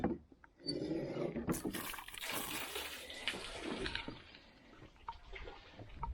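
Fresh water flows steadily in a village, a close, continuous splashing and gurgling rush with small fluctuations and a brief dip near the start.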